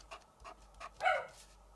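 A dog, a female, barks indoors at someone passing, giving a few faint, soft yips followed by one louder bark, fairly distant and quiet.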